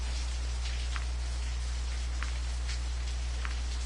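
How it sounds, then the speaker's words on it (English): Steady rain falls outside in the visual novel Angels With Scaly Wings, a constant hiss of downpour broken by a few soft drip accents, with a low hum beneath and no voices. "It's raining pretty hard outside"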